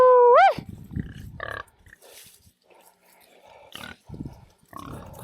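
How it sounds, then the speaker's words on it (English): Several pigs, including a breeder sow, grunt and snort at close range on open pasture while being fed grain and chicory, with an irregular run of short, rough calls and one loud squealing cry at the start. "that one sow over there wants the chicory more than she wants the grain"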